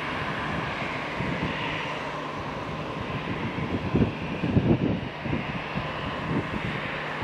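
Airbus A321 engines taxiing at Madeira Airport, a steady broadband jet roar with wind buffeting the microphone and a few louder low rumbling swells midway.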